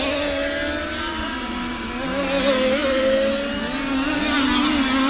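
Small high-revving engines of 1/5 scale radio-controlled racing cars lapping a small track at a European championship qualifying heat, a continuous buzzing whine with pitch sweeps as cars accelerate and brake, steady and fairly loud without talk.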